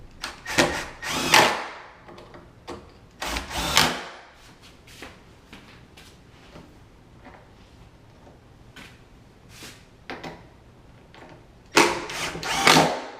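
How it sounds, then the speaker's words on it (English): A power drill drives screws into the opposite board of a Shipyard Ink table during assembly, with several short whirring bursts at the start, middle and end and quieter handling knocks between them. "Then you can start putting your screws in on the opposite board"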